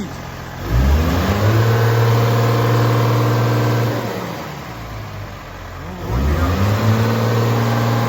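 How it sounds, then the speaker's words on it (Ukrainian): A New Holland tractor engine is revved twice, each burst climbing to a loud, steady high idle before dropping back, heard close up with no talking. "Сереж, а ну газніть"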